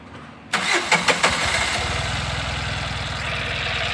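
A Tata Ace Gold BS6 mini truck engine cranks with a few sharp bursts, then catches and settles into a steady, fairly loud idle with a rapid rhythmic chug.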